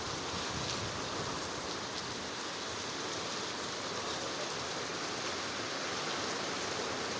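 Steady rain mixed with falling hail, pouring as a dense, continuous hiss outdoors during a windy storm, fairly faint and unbroken, with no one talking.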